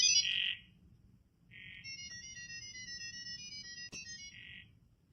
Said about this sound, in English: They switch to a high-speed audio signal.